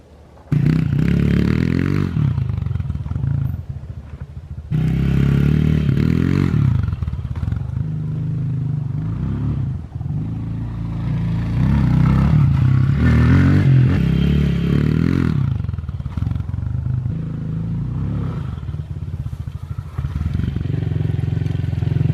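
A dirt bike rides a muddy backyard track, its engine droning loud and close and rising and falling in repeated revving surges with scraping and clatter over about twenty seconds.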